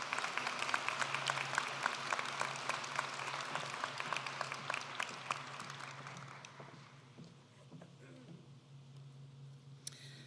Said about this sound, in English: please join me in a round of applause for him